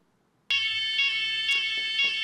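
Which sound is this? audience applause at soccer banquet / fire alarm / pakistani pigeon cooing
fire alarm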